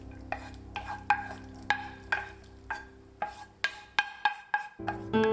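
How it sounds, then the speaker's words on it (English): Repeated scraping and clinking of a spoon stirring takikomi gohan with chicken in a pan, about a dozen strokes in a steady rhythm, close and fairly clear, with no talk. "Stir well until the rice has colored."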